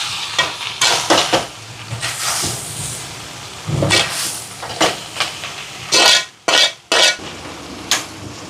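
Eggplant curry with coriander being stirred in a pot, with repeated scraping strokes in bursts and clanks of a utensil against the pot over a soft sizzle, close and fairly loud.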